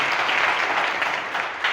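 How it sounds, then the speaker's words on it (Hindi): Audience applause in a coaching-academy class, a steady, dense burst of clapping from a crowd of students, fairly close and continuous, with no talking over it. "तो संतोष के लिए एक बार जो है आप तालियां जो है बजाएं।"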